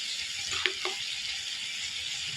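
Turmeric powder hits hot frying oil in a home kitchen, a steady soft sizzle and hiss running throughout, with a couple of faint clinks of a utensil early on.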